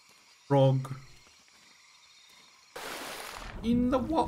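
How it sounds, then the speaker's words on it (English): A frog croaks once in the Tomb Raider 3 video game, a short close croak over a quiet background, then splashing water noise and a voice follow. "Frog."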